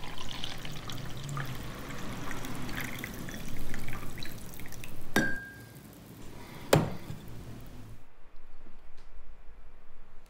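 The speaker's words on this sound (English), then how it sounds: "the first thing you're going to want to do is pour yourself a nice cup of tea" A steady stream of liquid pours for several seconds, with a couple of sharp clinks against a cup, then the sound stops and goes quiet.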